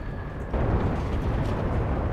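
A grenade bursting in the World War II shooter Enlisted: a sudden swell of low, rumbling blast noise that lingers as a rough, broad roar for under two seconds, moderately loud with no speech.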